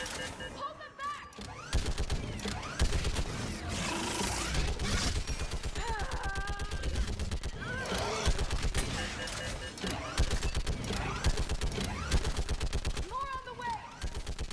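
Sustained gunfire from a Mass Effect 3 firefight at a bridge barrier, rapid dense bursts running almost throughout under shouted voices.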